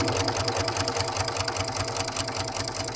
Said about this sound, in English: So we're going to go ahead and stitch, and I'm keeping this right on my previous stitching.